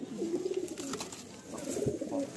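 Madrasi pigeons in a loft of nine nest boxes give low, rolling coos that overlap in a continuous burble, moderately close and soft, with a few faint background knocks and no speech.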